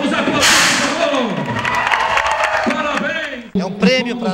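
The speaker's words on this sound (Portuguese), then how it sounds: "Vamos aplaudir, por favor!" Applause and cheering from a crowd at a public government event in Parauapebas, loud and near, with whistles and a whip-like crack. Clapping swells at the start and drops out abruptly near the end as a voice comes in.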